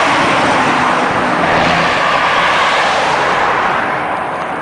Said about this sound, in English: you'd have multiple cars coming from the opposing direction